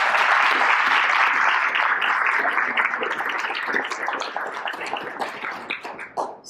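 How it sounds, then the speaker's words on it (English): Conference audience applauding a keynote speaker, a dense, loud burst of clapping that holds steady and then thins and tapers off toward the end. "I do think he deserves a round of applause."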